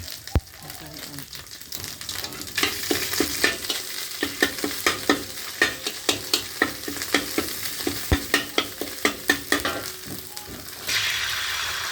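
Chili frying in hot oil in a pan, a steady close sizzle with rhythmic scraping and stirring strokes, and a brighter burst of sizzling toward the end.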